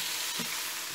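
Fried shrimp stirred in a hot pan with salt, a steady loud sizzle with a faint scrape of the utensil, close and continuous, without speech.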